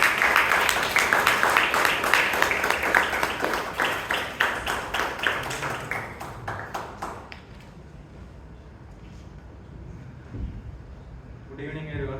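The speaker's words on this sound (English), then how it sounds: "Can we give a big round of applause for Shamas?" At a Toastmasters club meeting, a room gives a round of applause: dense clapping that gradually fades to sparse claps and then near quiet before someone begins speaking at the end.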